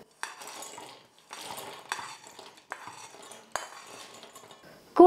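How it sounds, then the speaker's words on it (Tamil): Cooled roasted peanuts for a peanut chutney are tipped into a mixer jar in a home kitchen. Several separate rattling clatters of nuts and a spoon against the jar come in quick bursts, close and fairly quiet, with a sharper clink at the end. "வேர்க்கடலை எல்லாமே நல்லா சூடு ஆறுனதுக்கப்புறமா இப்போ நான் மிக்ஸி ஜாரில் சேர்த்துக்கிறேன்."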